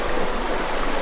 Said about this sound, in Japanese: せせらぎですよこれ